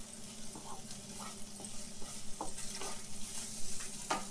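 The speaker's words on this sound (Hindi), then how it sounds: "अब इसके अंदर हम पनीर डाल देते हैं और इसको भी अच्छे से इसमें मिला देते हैं" Paneer cubes stirred into a frying tomato-onion masala, a soft continuous sizzle with light scraping strokes of a spoon at an irregular pace, quiet and close, no voices.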